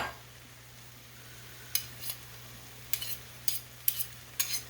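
Canned corned beef hash with potatoes and onion fries quietly in a pan. A soft, steady sizzle runs underneath, broken by several sharp clinks and scrapes of a utensil stirring against the pan.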